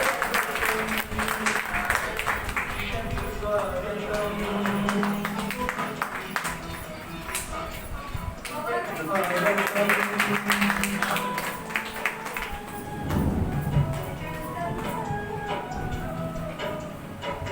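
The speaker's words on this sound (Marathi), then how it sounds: "आपण सगळ्यांनी टाळ्या वाजवून तिचं अभिनंदन करा." An audience claps together to congratulate a girl being honoured at a World Environment Day event, sustained and fairly loud across the whole stretch, with the applause swelling and dipping.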